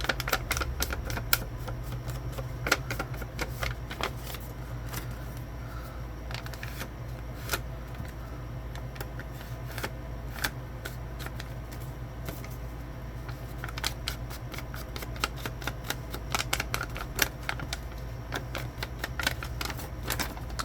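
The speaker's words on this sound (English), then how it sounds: "I love the sound of coffee dyed paper." Crunchy coffee-dyed copy paper handled and crinkled up close for a junk journal, giving steady dense rustling and crackling with sharp crisp snaps throughout, no voices.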